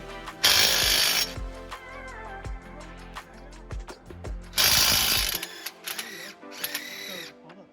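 A hand ratchet clicks in quick bursts while loosening the bottom bolt on GR86 coilovers, close and sharp, with gaps between strokes and a final loose spin of the bolt.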